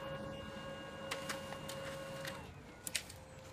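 A Brother laser printer runs a print of a PCB toner transfer, giving a steady close mechanical whir with a constant hum, broken by a few short clicks and ticks and a pair of sharper clacks near the end, with no voices.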